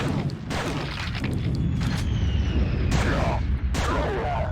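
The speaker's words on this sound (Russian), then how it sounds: "Бочки тоже надо взрывать." Barrels exploding in the video game Quake 2, heard as several heavy booming blasts a second or so apart over a constant rumbling game soundscape.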